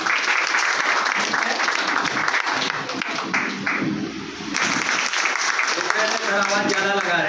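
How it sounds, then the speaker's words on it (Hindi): A hall audience at a business plan presentation gives new guests hearty applause, dense clapping that swells and eases, with voices rising over it toward the end. "सभी के लिए एक बार जोरदार तालियां हो जाए"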